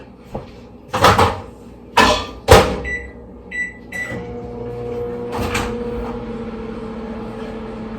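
A microwave oven warming baby food runs with a steady hum after several loud clunks of its door and cupboards opening and closing, then beeps sound near the start of heating.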